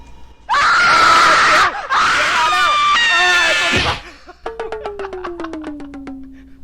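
Loud, harsh screaming from the horror game SlendyTubbies bursts out in two long, shrill stretches, then gives way to a rapid series of sharp, falling stuttered shrieks that fade toward the end.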